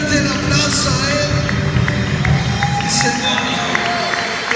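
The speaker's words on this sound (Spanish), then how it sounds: "dale fuerte el aplauso a Él" A church congregation applauds together with cheering and shouting voices in a loud, dense wash of clapping that fills the space throughout, with a few sharper claps standing out.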